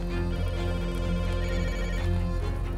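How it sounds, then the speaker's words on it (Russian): A phone rings in the survival game Rust, a loud, steady electronic ringtone with a sustained tone and no pauses. "И пока мы плыли за Бородой, нам поступил звонок от хранителей, которые хотели рассказать нам что-то очень важное."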